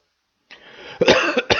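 Two or three sharp, loud coughs close to the microphone, one after another, with a short raspy breath before them.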